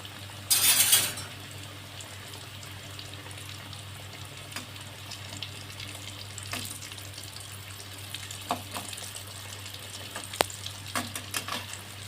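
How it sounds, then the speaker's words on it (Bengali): Chicken pieces frying in oil over a low flame, a steady soft sizzle with a burst of louder crackle at the start and occasional faint clinks, with no voices. "এখানে একদম লো ফ্লেমে দিয়ে রাখতে হবে দেখুন এইভাবে আমি পাঁচ মিনিট ফ্রাই করে নিয়ে"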